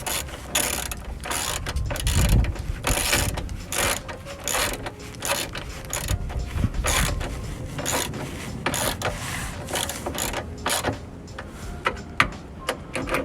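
A ratchet wrench clicks steadily while backing out the last bolt on a Subaru Impreza WRX during an oil and filter change, with a close, continuous run of pawl ticks and some metallic rubbing.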